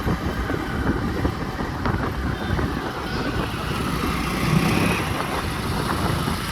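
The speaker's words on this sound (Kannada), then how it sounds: "ಅದರಲ್ಲಿ ಗಾಳಿ ಬೇರೆ ಸಡನ್ನಾಗಿ ಗುಯ್ ಅಂತ ಬಂದ್ಬಿಡುತ್ತೆ ಒಂದೇ ಸರಿ" Wind roars steadily against the microphone on a motorcycle ride to Savandurga Hill near Bangalore, a constant buffeting rush with engine hum beneath and no talk.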